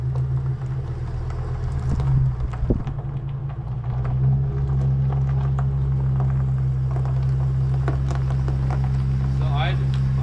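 An RV creeps along slowly, its engine giving a steady low rumble with a continuous drone throughout, while people talk nearby.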